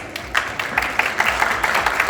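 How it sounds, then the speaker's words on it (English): An audience at an International Women's Day event applauds the participants of a discussion, a close, dense burst of clapping with brisk individual claps standing out as it builds. "Let's give them a huge round of applause."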